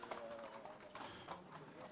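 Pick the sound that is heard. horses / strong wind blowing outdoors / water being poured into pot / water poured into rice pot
horses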